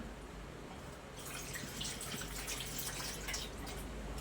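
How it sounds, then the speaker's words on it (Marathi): Water poured into a pressure cooker of dal khichdi mixed with coriander, a close, continuous splashing pour that begins partway through and runs steadily to the end. "मी आणखी पाणी घालणार आहे त्याच्यामध्ये"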